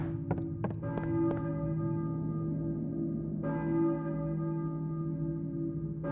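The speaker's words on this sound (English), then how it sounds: "church bell, maybe. Who's ringing the bell?" A church bell tolls in a Silent Hill game scene, with several clear metallic strikes early on and another strong strike midway, each leaving a long ringing hum that lingers over a low, quiet ambient drone.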